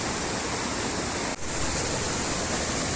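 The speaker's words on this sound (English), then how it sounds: "rocks to reach to the waterfall." A steady, full-band roar of rushing water from a remote waterfall off Upper Kolab Road, reached by trekking over rocks. It stays loud and constant throughout, with one brief dip partway through and no voices.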